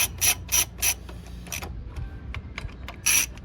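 A hand ratchet snugs up a bolt during rear wheel and final drive service on a Honda GL1500 Goldwing. Several short, crisp bursts of rapid clicking come close by, separated by pauses with faint tool and handling noises.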